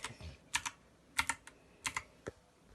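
Soft clicks of typing on a Ziyoulang T60 computer keyboard come in short bursts of two or three keystrokes with brief pauses between.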